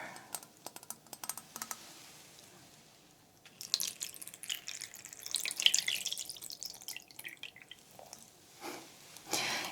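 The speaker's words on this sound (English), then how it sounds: "she'll pour the water." Water is poured into a teacup in a quiet afternoon-tea setting. Light clinks and taps come first, then a soft trickling pour swells and fades, heard close and gentle.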